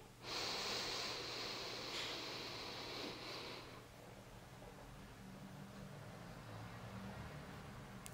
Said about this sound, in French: Encore une fois, on inspire.